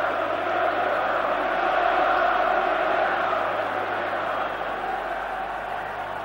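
Football crowd at the 1990 FA Cup Final between Manchester United and Crystal Palace roaring after the 1-1 equaliser, a dense, sustained wall of cheering and shouting from a vast stadium crowd, steady and loud throughout.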